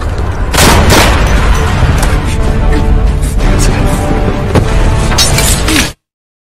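Gunfire in an action film, loud bursts and sharp shots over about six seconds with dense booming impacts and a scrap of voice mixed in, cutting off abruptly at the end.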